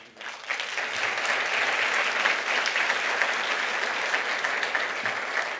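Audience applause at a Marquette University presidential address, a steady sustained wash of clapping from a large crowd that swells quickly at the start and holds at an even level throughout, with no talking over it.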